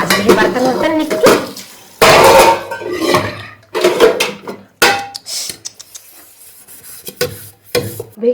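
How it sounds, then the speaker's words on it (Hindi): Pots, pans and utensils being scrubbed and washed in a home kitchen, giving bursts of clattering metal, scraping and rubbing in uneven spurts close by, broken by short pauses and brief speech. "माज रहे बर्तन वर्तन निकले"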